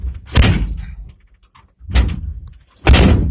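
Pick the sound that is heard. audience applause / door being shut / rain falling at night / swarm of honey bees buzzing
door being shut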